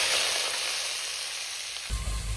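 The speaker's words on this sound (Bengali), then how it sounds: "এদিকে আমি ভেটকি মাছের মাথা ভালো করে ভেজে নেব। সরষের তেল।" Bhetki fish head frying in hot mustard oil, a steady close sizzle and crackle that continues throughout, with a brief clatter near the end.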